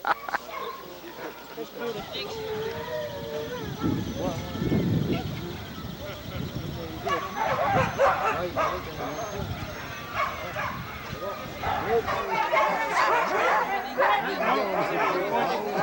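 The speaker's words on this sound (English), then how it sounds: "When you look at these dogs, each one just hanging out." Sled dogs at the Can Am race in Fort Kent bark, yip and whimper in an excited chorus, close and loud at times, with people talking among them.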